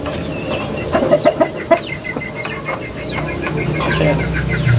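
A Peruvian small-breed chicken clucks close by in a short run of sharp bursts in the first two seconds, then goes quieter clucking over a low farmyard hum.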